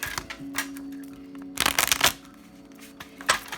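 Tarot cards being shuffled and riffled in a quiet room, with papery bursts of flicking and sliding, one longer burst in the middle and shorter ones around it, close and alone.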